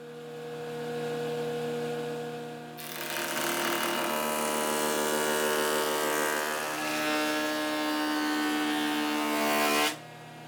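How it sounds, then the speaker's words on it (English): A jointer planes one face of a spalted maple board, a loud broadband cutting roar over the steady motor hum that starts a few seconds in, holds for about seven seconds, then cuts off abruptly. "I'm going to run one face through the jointer just to get a look at the wood"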